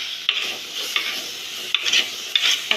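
A spoon scraping and stirring tomatoes into sautéing cauliflower curry in a pan, a steady sizzling hiss broken by close, gritty scrapes at irregular intervals.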